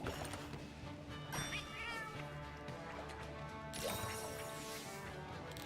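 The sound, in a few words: Prowler cat meowing in video game Monster Hunter Generations Ultimate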